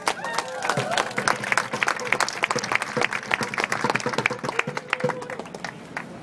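A crowd in Union Square claps and applauds, dense overlapping hand claps at steady loudness for several seconds, with scattered voices and a faint cheer mixed in.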